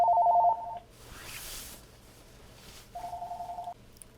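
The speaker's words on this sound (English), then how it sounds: "Sorry about that, excuse the phone." A telephone rings in short trilling bursts, then stops; after a pause of faint rustling it rings again, moderately loud and nearby.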